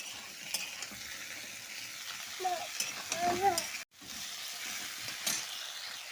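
Sizzling of a fresh coriander, cumin, green chili and garlic paste frying in a pan, a soft steady crackle with stirring scrapes and a brief clatter partway through.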